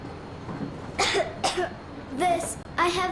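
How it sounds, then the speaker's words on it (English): A child coughs a few times in short, harsh bursts, close up, in the video game Metro Exodus. "I have this cough."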